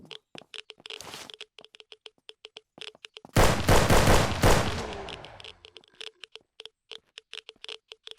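A non-silenced weapon in the survival video game SurrounDead fires a loud, dense burst lasting about two seconds, framed by rapid, crisp clicking steps and a shorter crackle before it.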